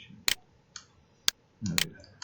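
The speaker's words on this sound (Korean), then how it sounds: "두번 클릭" Sharp computer mouse clicks in 3D kitchen design software, a few isolated taps including a quick double click, close and crisp with a faint rustle near the end.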